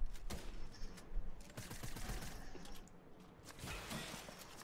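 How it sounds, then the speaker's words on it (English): Gunfire crackles in a Fortnite Season 4 match with sniper shots, heard as a dense run of sharp, rapid cracks and bursts. The shots come fairly loud and close, with a short lull in the middle. "We're getting sniped from somewhere."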